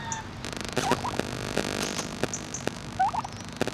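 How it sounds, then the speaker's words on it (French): Domestic turkeys gobbling in a farmyard poultry setting, a burst of warbling calls repeating several times over a busy background of other fowl, close and fairly loud. "Une dinde, ce que c'est."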